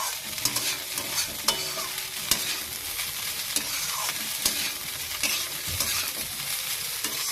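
A spoon stirs flattened rice pulao (chirer polao) in a pan, giving soft, quiet sizzling with repeated light scrapes and clicks in an uneven rhythm, no talking.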